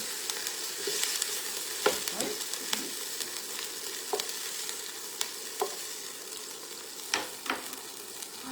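Meat cutlets frying in oil in a pan: a steady, close sizzle with occasional pops and scraping stirs, moderately quiet, no talk.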